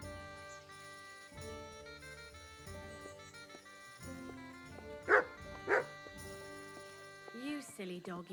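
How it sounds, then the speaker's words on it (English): A dog barks in the video game Kingdom Come: Deliverance II, two short loud barks rising over sustained game music, followed by a fainter yip near the end. "You silly doggy."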